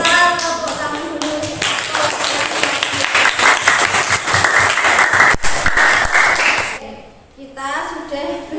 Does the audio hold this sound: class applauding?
yes